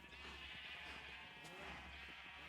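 Sheep bleats in the video game Minecraft, a few wavering cries over a faint steady background hum, quiet and close.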